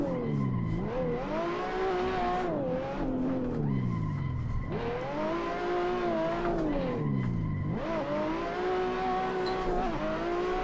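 Car tires squeal and skid continuously as a car drifts uphill with heavy handbrake use in the Assetto Corsa racing game, the engine revving and falling in rising and dropping sweeps, loud and close.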